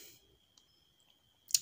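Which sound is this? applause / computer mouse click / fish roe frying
computer mouse click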